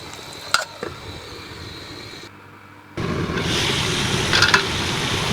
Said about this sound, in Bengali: আমি আরও ভাজা করে নিব।